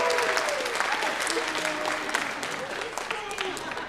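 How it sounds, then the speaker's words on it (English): A church congregation gives sustained applause after a brief interview during a sermon, dense even clapping from a full room throughout, with faint voices mixed in. "give him a round of applause"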